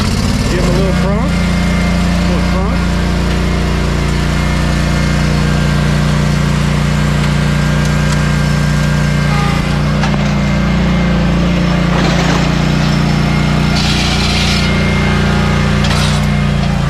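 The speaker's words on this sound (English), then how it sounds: "I have to get my mower off, the big mower off, before I can get the little mower off. But here goes Big Mo." Big Mo, a large riding lawn mower, is driven off a trailer. Its engine drones loud and steady throughout, with a few clanks over it and a voice speaking now and then.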